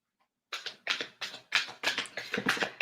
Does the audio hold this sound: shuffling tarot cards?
yes